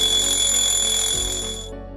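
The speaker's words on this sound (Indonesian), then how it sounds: "terganggu oleh alarm yang berbunyi kencang" A loud electronic alarm clock in an animated cartoon rings with a shrill, steady tone, then cuts off abruptly near the end.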